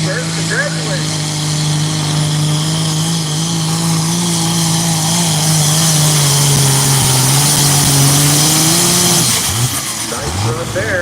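Pulling tractor engine roaring through a full pull run at a tractor pulling championship in Rockwell, Iowa, a loud sustained drone that holds steady, then drops and sputters near the end.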